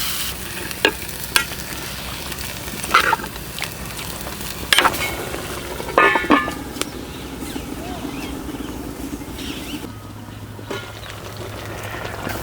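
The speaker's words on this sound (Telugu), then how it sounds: "చికెన్ నుంచి నీరు బయటకు వచ్చి బాగా ఉడుకుతుంది" Chicken cooking in its own released water in a pot for village-style green chilli chicken pulao, bubbling with a low simmer while a spoon clanks and scrapes in several bursts.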